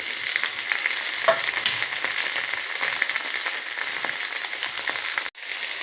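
Potato and beetroot pieces fry in a pan for pulao, giving off a steady close sizzle with faint crackles and occasional stirring scrapes.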